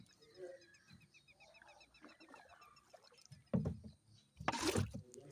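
Rainwater is scooped and tossed out of a wooden canoe in Sri Lanka, giving two close, loud splashing bursts near the end. Before them, chickens cluck and birds call faintly in the quiet background.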